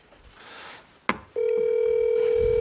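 A telephone call on speakerphone starts with a click, then a steady, loud dial tone holds without a break after a moment of quiet room noise.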